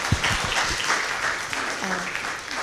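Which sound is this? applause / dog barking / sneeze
applause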